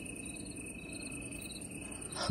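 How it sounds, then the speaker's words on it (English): Crickets chirp in a continuous high-pitched trill, steady and fairly quiet, with a faint low background hum. "We're hearing crickets."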